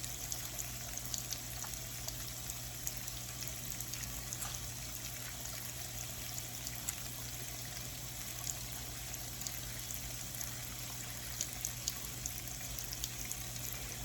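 Steady running hot tap water, a continuous soft hiss with faint splashes as hands are washed under the stream.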